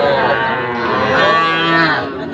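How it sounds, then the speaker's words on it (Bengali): A heifer calf at a rural cattle market gives one long, loud, close moo that holds for about two seconds before tapering off. "এইটাও বকনা বাছুর।"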